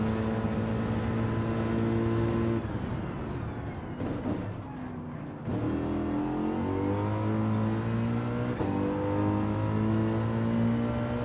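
A race car engine in Gran Turismo 7 revving and dropping through downshifts, the pitch falling sharply mid-clip before climbing again, loud and close with no voices.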